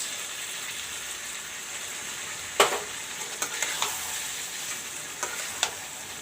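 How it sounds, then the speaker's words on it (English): Ginger garlic paste is stirred into a curry base of turmeric and chili powder in a hot pan, giving a steady sizzle broken by a few sharp clinks and scrapes of the spoon. "Now I am going to add the ginger garlic paste."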